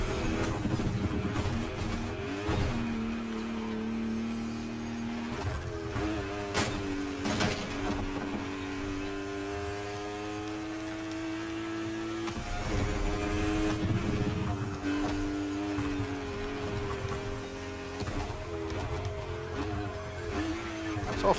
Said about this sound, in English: So funny that this is the sound that they decided to come up with for electric cars.